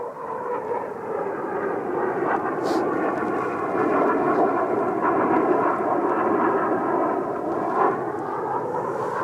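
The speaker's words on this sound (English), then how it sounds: "Remote control planes now, whatever next." A remote control model plane flies overhead at a lakeside carp fishing spot, its steady buzzing engine drone continuous and fairly loud throughout.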